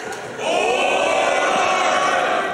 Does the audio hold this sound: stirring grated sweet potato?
no